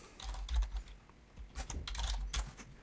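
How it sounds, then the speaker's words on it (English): Keys clatter on a computer keyboard while names are entered into an Excel spreadsheet cell, close and fairly quiet, in two uneven bursts of rapid taps with a short pause between them. "I can then type in the other names that I want."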